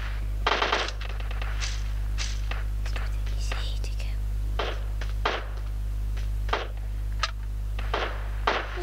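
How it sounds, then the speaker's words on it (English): Scattered gunshots ring out from behind during a PUBG Mobile match, sharp isolated cracks and short bursts spread across several seconds over a steady low hum, with a faint whispery voice underneath. "There's a guy shooting from behind"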